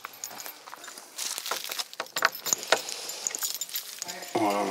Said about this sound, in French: Dans le plus simple appareil, un trousseau de clés suffit.